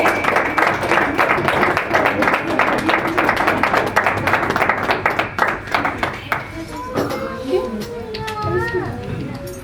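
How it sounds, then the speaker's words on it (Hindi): A congregation at a Sunday church meeting claps to welcome a pastor, dense steady applause for about six seconds, then thinning out as a voice begins speaking over the last few seconds. "हम तालियों के साथ हमारे बीच में परमेश्वर के दास पास्टर दिनेश जी का स्वागत करेंगे।"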